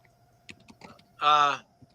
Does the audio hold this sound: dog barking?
no